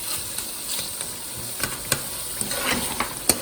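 A spoon stirs mutton karahi in a hot pan, a steady soft sizzle broken by light scraping taps against the metal, close by and with no voices.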